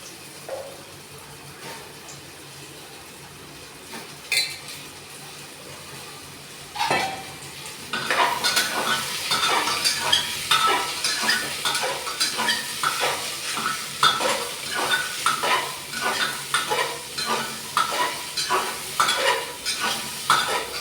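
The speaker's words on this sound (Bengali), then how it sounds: "আলু আমার প্রায় ভাজা ভাজা হয়ে এসছে। এখন আমি দিচ্ছি ওপর থেকে কুমড়ো।" Potatoes and pumpkin fry in a pan, with a few isolated knocks at first and then a rhythmic run of scraping stirs over a constant sizzle, close and fairly loud.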